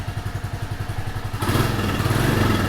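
A Royal Enfield Classic 350 motorcycle engine thumps through a rapid, even cranking rhythm, then catches and settles into a louder, steady single-cylinder idle, close by and alone.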